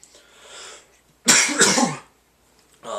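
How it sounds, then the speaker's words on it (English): Two sharp, loud coughs in quick succession, close to the microphone, after a quiet stretch; a brief faint sound follows at the end. "That was a real cough."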